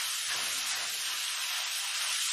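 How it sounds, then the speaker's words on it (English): Onions sweat in a hot pan, giving a steady, soft, broadband sizzle and hiss that holds evenly throughout, with no talking. "We're just going to sweat them out just a little bit till they're translucent."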